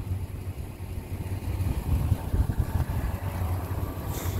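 A 1999 Ford F-150 pickup's engine idles steadily with a low rumble and a faint repetitive ticking running through it, continuous and fairly close.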